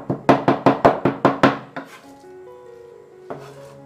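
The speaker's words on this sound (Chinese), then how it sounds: "然后我们再来剁一些肉末" A cleaver mincing pork comes down in eight fast, loud, evenly spaced chops on a board, then stops, leaving a faint ringing tone before one last soft knock.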